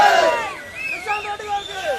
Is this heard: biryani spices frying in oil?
no